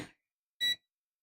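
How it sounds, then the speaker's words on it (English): An electronic device gives a single short, bright beep, close and clear, after a brief moment of silence, during work on converting a lamp to LED. "Beep."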